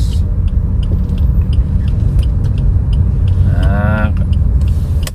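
A Suzuki Ertiga GL with a 1400 cc four-cylinder engine cruises in second gear, giving a steady low in-cabin engine hum and road rumble with a brief rising whine near the end; nobody talks.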